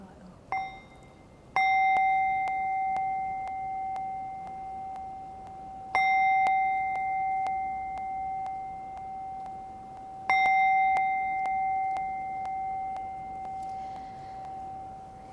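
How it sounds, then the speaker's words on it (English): A meditation bell is struck three times, a pair of quick strikes and then two single strikes about four seconds apart, each tone ringing out clearly and fading slowly in a quiet room with no talking. "So let us enjoy 3 silent bells"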